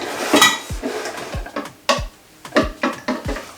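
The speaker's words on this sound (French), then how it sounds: "On mélange bien pour que tous les ingrédients se mélangent ensemble." A spoon stirs a chilled non-alcoholic cocktail of cold water and flavouring in a glass, making about eight bright, close clinks and swishes in an uneven rhythm, with no voices.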